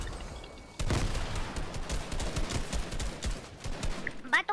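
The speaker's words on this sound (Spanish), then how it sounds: "Allá les tiré granada" Grenade blast and gunfire in a multiplayer shooter game, a sudden loud burst followed by rattling shots, with players talking excitedly over it.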